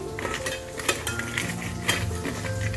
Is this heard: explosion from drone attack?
no